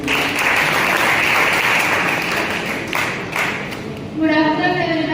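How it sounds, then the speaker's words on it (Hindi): An audience at a Chandrashekhar Azad birth-anniversary celebration claps in a steady, fairly close round of applause that fades out, followed by a voice speaking. "प्लीज तालियां बजाइए प्लीज."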